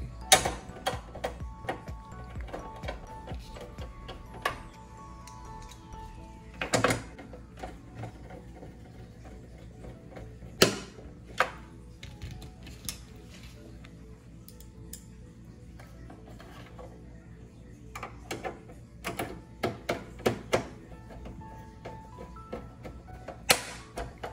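Mounting bolts and screws are fitted onto a roof DVD monitor bracket in a 2012–2015 Chrysler Town and Country, giving scattered close clicks and ticks of fasteners and tools over a quiet background, with a few sharper knocks.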